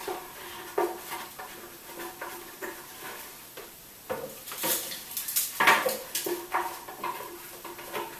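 Ground nuts being scraped out of a food processor bowl for raw bee pollen balls, a run of scraping and knocking clatters with a few sharper clinks, close and fairly quiet, without any talk.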